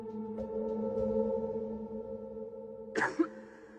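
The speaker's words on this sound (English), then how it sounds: "A person coughs once" A single cough bursts out near the end, over a steady electronic hum and faint tones.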